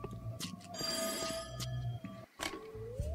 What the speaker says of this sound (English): Pick up the phone, damn it!